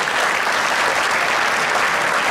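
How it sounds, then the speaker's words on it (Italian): A crowd at a track cycling event in Fiorenzuola applauds a cyclist with loud, dense, continuous clapping that fills the whole stretch. "un applauso meritatissimo"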